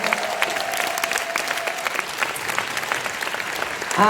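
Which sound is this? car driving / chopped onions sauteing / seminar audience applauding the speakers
seminar audience applauding the speakers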